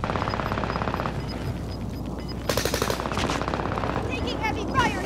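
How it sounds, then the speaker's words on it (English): Heavy automatic gunfire in the video game Call of Duty: Modern Warfare, a rapid continuous rattle of shots that grows louder and denser midway, with a high tone and electronic game effects over it. "Taking heavy fire here!"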